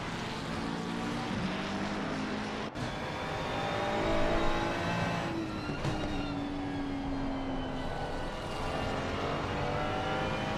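Two Ferrari race cars dueling at Brands Hatch, engines droning and shifting pitch as they pass, a steady loud roar throughout with no talk.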